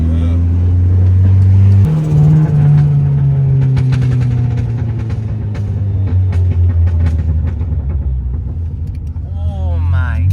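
A Dodge SRT4 with a new stage 3 ACT clutch pulls away loudly, the engine droning low and rising as it accelerates, with people talking over it.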